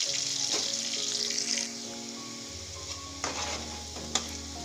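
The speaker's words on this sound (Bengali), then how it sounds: "দেখুন আমার এখানে আলুটাও ভাজা হয়ে গেছে" Potatoes frying and sizzling in hot oil, a steady close hiss that eases partway through, with a few light clinks of a spatula against the pan near the end.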